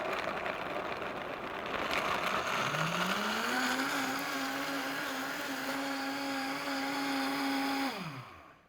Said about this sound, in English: So I blended this for about 45 seconds in my high-powered blender.